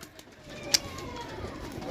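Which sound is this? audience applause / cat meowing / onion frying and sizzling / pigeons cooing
pigeons cooing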